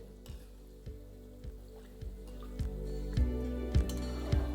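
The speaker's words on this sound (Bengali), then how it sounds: "এটাকে ভালো করে ফ্রাই করে নেবেন।" Potato snacks fry in hot oil with a steady, close sizzle, broken by regular scraping clacks from stirring roughly every half second and no talking.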